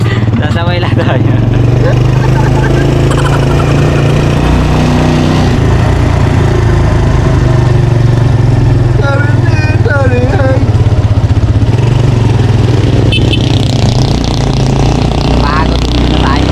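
Tricycle motorcycle engine droning steadily throughout a ride, loud and close with a constant low rumble, while people talk over it.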